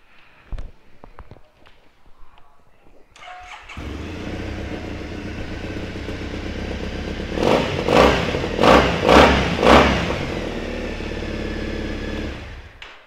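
A 2015 Triumph Bonneville 865 motorcycle is started after a few clicks and handling noises, settling into a steady, close idle with several short throttle blips rising above it before dropping back.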